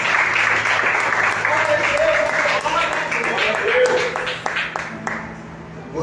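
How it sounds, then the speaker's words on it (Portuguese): A church congregation applauds steadily, dense clapping filling the room at close range, with voices mingling in and the applause thinning near the end. "E aplauda o Senhor Jesus."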